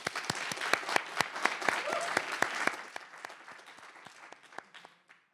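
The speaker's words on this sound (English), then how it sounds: "a great round of applause for them" A modest audience at the MIT Bitcoin Expo 2020 hackathon claps for the grand sponsors, distinct individual claps rattling quickly at first, then thinning out and fading to silence after about five seconds.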